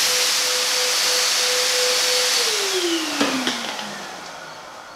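An Adam's Polishes Air Cannon blower dryer powers off. A steady loud whine and airflow hiss holds, then drops in pitch and fades as the motor spins down, with a couple of small clicks along the way.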